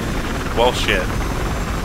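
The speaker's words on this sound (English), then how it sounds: "This chopper is not taking off." A helicopter engine in the Battlefield Hardline game sits grounded with a steady, droning whir that stays constant throughout, and a player speaks briefly over it.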